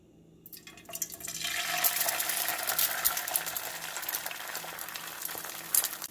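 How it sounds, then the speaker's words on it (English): Egg whites fry in a hot pan with a little oil, giving a steady bright sizzle that swells soon after they go in and then holds even with small pops and crackles. "In a hot pan, you want to add just a little bit of oil, and then you want to add your egg whites"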